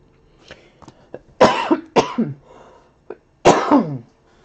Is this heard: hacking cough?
yes